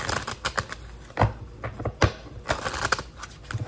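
Tarot cards are shuffled in quick, irregular bursts of crisp slapping and riffling, close and fairly loud, with brief pauses between flurries and no talking.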